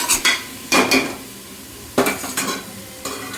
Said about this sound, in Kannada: ಇದು ಮಸಾಲೆ ಸ್ವಲ್ಪ ಎಣ್ಣೆಲಿ ರೋಸ್ಟ್ ಆಗಬೇಕು.